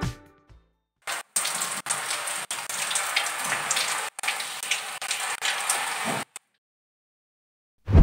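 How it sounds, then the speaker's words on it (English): Air conditioner filters rinsed under running tap water, a close, loud hissing spray that starts and stops in several bursts, each lasting a second or more, then falls silent near the end. "The next step is cleaning the air filters themselves under running water."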